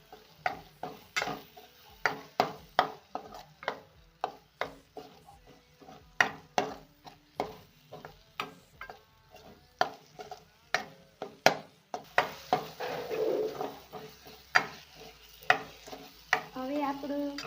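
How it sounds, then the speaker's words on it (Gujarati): Pasta masala is stirred in a pan, with repeated sharp scraping strokes of a spoon in an even rhythm over a soft sizzle that later grows into a louder steady frying hiss. "હવે આપણે આને મિક્સ સારી રીતે કરી લઈશું અને ઘડીક પકવા દઈશું."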